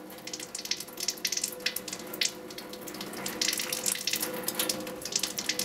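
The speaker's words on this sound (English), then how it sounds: "Held hands and arms under running water to rinse thoroughly" Tap water runs steadily into a sink as hands and arms are rinsed during a surgical hand scrub, a continuous close hiss with slight splashing changes and no voices.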